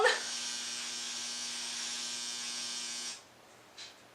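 A clothes dryer's buzzer sounds as one loud, steady electric buzz for about three seconds, then stops abruptly, leaving room quiet and a brief faint noise afterward.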